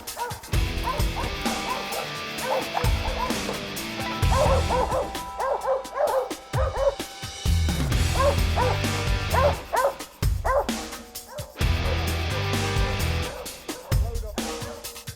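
Hunting dogs treeing a squirrel in the woods bark, yip and whimper in repeated close bursts, loud and excited, with brief gaps between outbursts over about fifteen seconds.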